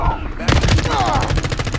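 Rapid automatic gunfire from the Call of Duty Modern Warfare 3 video game rattles loudly in a fast, even burst after a brief lead-in, close and continuous to the end.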